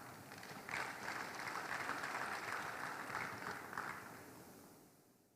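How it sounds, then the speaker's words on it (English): An audience at a stakeholder forum applauds, a steady round of clapping from a crowd in a hall that swells quickly, holds for about three seconds, then tapers off. "they deserve a round of applause"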